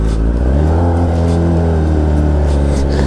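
Race car engine revving loud and close, a strong, steady drone with rising and falling pitch sweeps that hold for the whole stretch, no talking over it.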